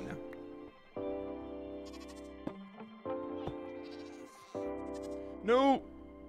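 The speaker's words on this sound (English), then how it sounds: "Oh, there's so many goats now." Several goats bleating in Minecraft, a series of drawn-out nasal calls with short gaps between them, ending in one higher, wavering cry.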